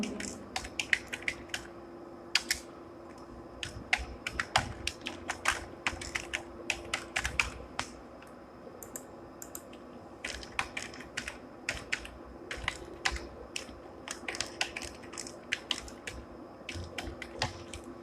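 An email address and password are typed on a computer keyboard: close, crisp key clicks come in quick irregular bursts separated by short pauses, with no talk over them.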